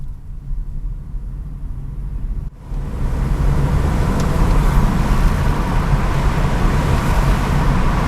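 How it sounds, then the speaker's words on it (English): A 2022 SEAT Ibiza 110 FR Sport with a small turbocharged engine pulls hard in second gear after a speed bump. A brief dip gives way to a loud, rising engine and road roar that holds strong to the end. "I want to see if you can get this turbo sound"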